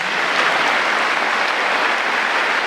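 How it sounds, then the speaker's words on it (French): Dense, loud applause from a large crowd, steady and continuous throughout. "Et avec vos applaudissements"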